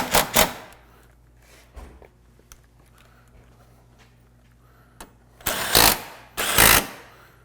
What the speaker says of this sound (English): we're going to tighten up all of our bolts that hold our grill on